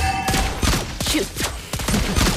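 Lesley's sniper fire in the Mobile Legends battle game, a run of loud, sharp repeated shots in quick bursts with brief mechanical clicks between them, close and continuous.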